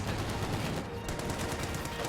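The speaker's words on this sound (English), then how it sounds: "Sherman 50 cal." A Sherman tank's .50 cal machine gun fires continuously in a real-time strategy battle. Rapid bursts of gunfire run steadily throughout, with faint battlefield noise beneath them.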